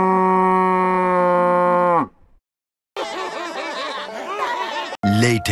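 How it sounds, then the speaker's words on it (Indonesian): A large, muddy cow gives a long, loud, steady moo up close, which breaks off abruptly. After a short silence, lively animated chatter and playful sounds follow. "Kita lihat, ini sapi."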